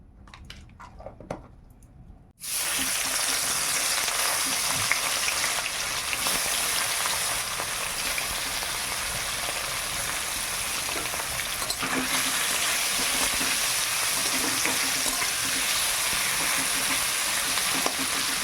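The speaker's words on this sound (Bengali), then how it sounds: "আজকে আমি চ্যাং মাছ রান্না করছি" Snakehead (cheng fish) sizzles loudly in hot oil in a pan, a steady crackling fry that starts abruptly after a brief quieter moment and continues without pause throughout.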